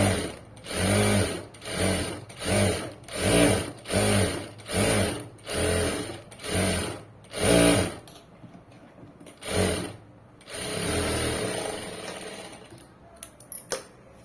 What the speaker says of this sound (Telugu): వన్ సైడ్ నీట్ గా స్టిచ్ చేసుకుంటూ వెళ్ళిపోవాలి.